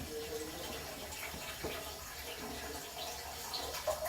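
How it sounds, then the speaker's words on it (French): A newly installed Geberit toilet cistern refilling after its first test flush, giving a steady, moderately quiet hiss and trickle of running water that continues throughout. "premier test de la chasse d'eau pour voir si tout se passe bien, si ça se remplit bien"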